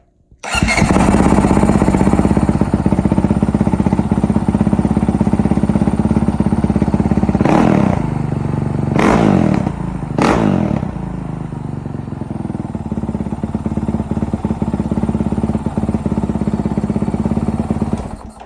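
A Honda 450L motorcycle with an upgraded exhaust and an open-top airbox starts and settles into a loud, close idle. Three sharp revs burst out midway before it drops back to a steady run.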